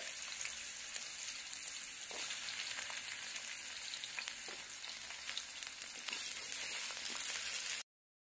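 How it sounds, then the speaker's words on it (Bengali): Potatoes fry in oil in a pan for a spicy moya fish curry, giving a steady, dense sizzle with faint crackles throughout and no voices until the sound cuts off near the end. "এখন আমি আলুগুলো ভেজে নেব।"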